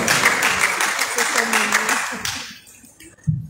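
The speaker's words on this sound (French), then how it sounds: "Encore un tonnerre d'applaudissements pour Madame Asna Saïd Alaoui" Steady applause from an audience fills the first two seconds, then fades out into quiet, with a brief sound at the very end.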